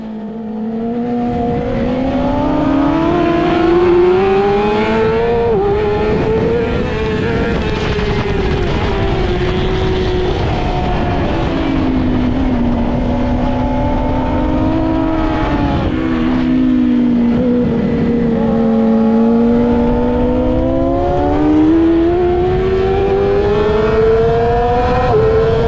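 Yamaha R6 racing motorcycle screaming at high revs on a race track, its engine pitch climbing and dipping through gear changes and corners in a sustained, loud, close wail with no voices.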